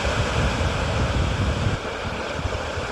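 A pretty natural waterfall pours steadily, a dense, continuous broadband rush of falling water that stays loud and unbroken throughout, with a slight dip in level partway through.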